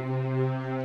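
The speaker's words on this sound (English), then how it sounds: "So what you're hearing right now is these two" Two Waverly XL synth tones set to the same sound, one panned left and one right for binaural beats, a steady sustained low hum with slight wavering, soft and continuous.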